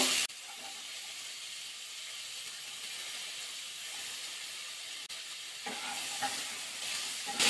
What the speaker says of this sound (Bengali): গাজরটা দিয়ে দেবো। ফুলকপির সাথে একটাই ভাজা করে নেবো।